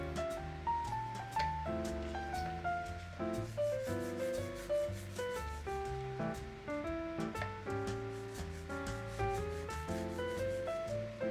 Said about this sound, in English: After drying, I sand the pieces loosely.